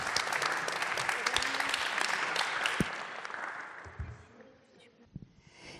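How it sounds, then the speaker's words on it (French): An audience at a local history talk in the Marne loop applauds a guest speaker, dense clapping that holds steady for about three seconds, then thins out and fades into scattered claps and quiet. "je vous propose d'applaudir bien fort Madame Autia"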